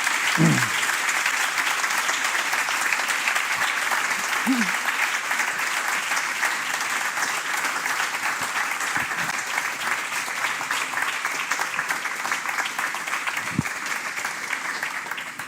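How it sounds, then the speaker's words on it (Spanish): An audience gives sustained applause for four finalists of a crime novel award, a dense steady roar of clapping from a full room lasting throughout, with a couple of brief voice fragments poking through. "Así que denles un aplauso antes de que lo entreguemos"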